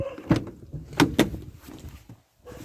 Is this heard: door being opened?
yes